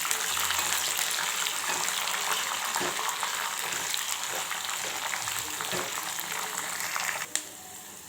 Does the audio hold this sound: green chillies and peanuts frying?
yes